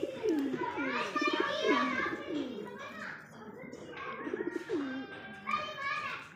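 High flyer pigeons coo in their loft, a repeated rolling coo close by, with children's voices and chatter mixed in around them.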